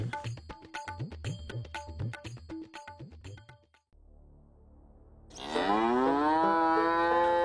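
A cartoon cow moos once, a long, loud, drawn-out call with rising and falling pitch that rings out alone after a pause, following earlier busy rhythmic tapping and music.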